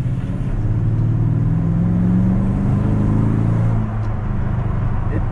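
A 2020 Toyota Tundra V8 fitted with a Borla Pro XS exhaust revs steadily, a loud, close, continuous low rumble held at raised RPM with a brief dip near the end.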